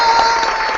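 A short burst of dense applause sound effect, loud and steady for under a second with no voices over it.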